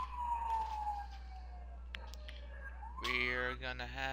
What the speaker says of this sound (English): Don't you freaking hear a police siren going off?